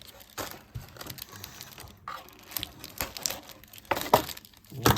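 Parts of a Marvel Legends Doc Ock action figure are cut free from cardboard and plastic packaging, giving close crinkling, snipping and rustling in uneven bursts, fairly quiet, with no talking.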